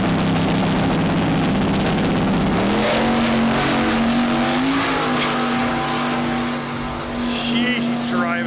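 A drag race car accelerates hard down the track with a loud, sustained engine roar that climbs in pitch through the gears, close and overwhelming, with people talking underneath.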